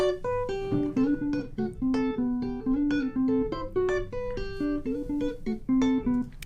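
A clean, unprocessed electric guitar picks a quick melodic line of single notes and short phrases, bright and dry, alone without voices.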